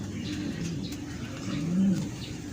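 A racing pigeon coos in a Philippine loft while owners wait for birds returning from a derby race, soft low murmuring ending in a clearer throaty coo over steady background noise.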